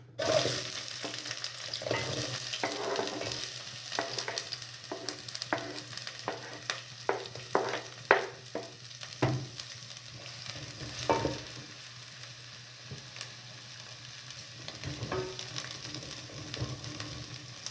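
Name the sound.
onions frying in oil for tomato soup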